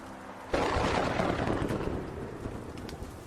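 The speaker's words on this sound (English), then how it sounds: "When the rain picked up, I ended our call." Heavy rain with thunder bursts in suddenly after a quiet moment: a loud, broad roar of downpour and rumble that slowly eases to a steady wash of rain. No speech.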